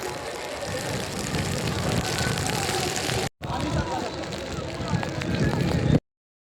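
Heavy monsoon rain pours at Raigad fort amid gusty wind, a dense, loud wash of noise with a brief dropout, and voices faintly mixed in.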